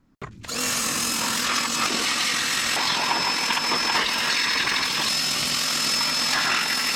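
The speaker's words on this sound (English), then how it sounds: "The pressure washer did its job for the most part." Pressure washer spraying rusty truck parts, including a transmission, as a steady, loud, continuous hissing roar that starts abruptly after a brief quiet moment and holds unbroken to the end, with no talking.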